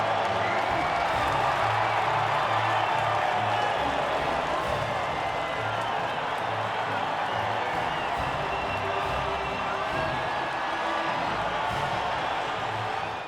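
A crowd cheers at the podium of the Italian Grand Prix in the F1 2004 video game, a dense, steady roar of voices and applause that holds loud throughout.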